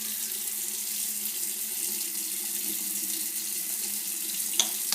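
A tap runs steadily into a sink for face washing, a continuous close hiss of falling water with a small knock near the end.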